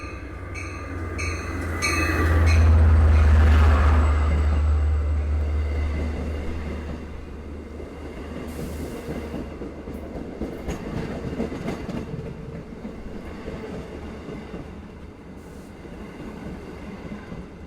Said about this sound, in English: 2 EMD DM30AC locomotives powering this train.